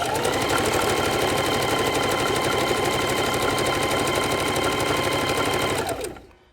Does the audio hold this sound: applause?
no